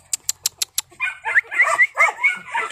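A dog gives five short, sharp barks in quick, even succession, then breaks into higher whining yips and whimpers, close and loud with no talk.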